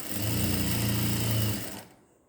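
A sewing machine stitches a churidar zip with a fast, even whirring hum that holds steady for about a second and a half and then winds down to quiet.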